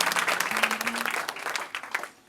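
Audience clapping at a gospel concert: dense, lively applause close by, briefly joined by a sustained sung or shouted tone, then tapering off after about two seconds.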